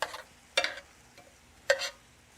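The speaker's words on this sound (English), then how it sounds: "we're going to get them back on this grill with that sauce and let them caramelize" Sauce-coated smoked pomegranate chicken wings go onto a grill, giving two short bursts of sizzle and scraping separated by quiet, low hiss, close and fairly soft with no talking.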